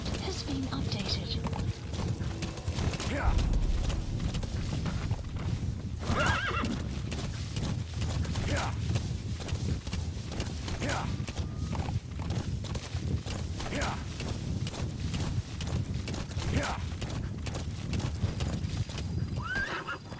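A horse in the Metal Gear Solid V game clip-clops along steadily while it neighs and whinnies again and again, with voices heard over the hoofbeats.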